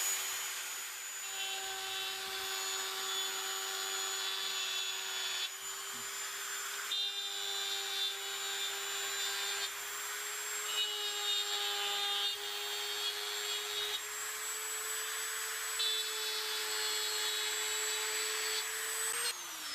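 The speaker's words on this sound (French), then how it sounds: "Ensuite, je vais utiliser le Dremel." Dremel rotary tool with a small bit carving a dry calabash gourd, a steady high-pitched motor whine with grinding rub against the shell, running continuously at close range with brief dips in pitch, no voices.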